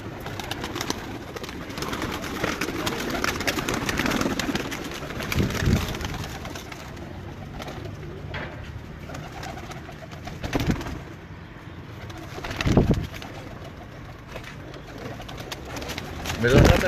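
Pigeons coo repeatedly at close range from a rooftop loft that holds young birds. The coos are soft and low, and voices talk intermittently over them.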